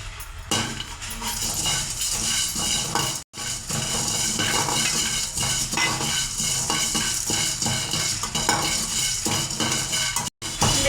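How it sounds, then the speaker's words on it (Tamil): Star anise, cloves and cinnamon dry-roast in a pan, a continuous scraping and rattling with light metallic clinks as the spices are stirred, steady and close with no talk. "இப்போ இது எல்லாத்தையும் நம்ம நல்லா வறுத்து எடுத்துக்கலாம்"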